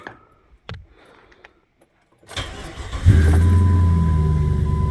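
A 2002 Jeep Grand Cherokee with the 4.7 engine and a coil fault cranks briefly after a few quiet clicks, then catches and settles into a loud, steady idle close by.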